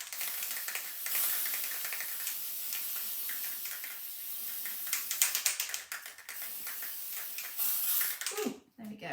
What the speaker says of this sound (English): And just give them a quick spray.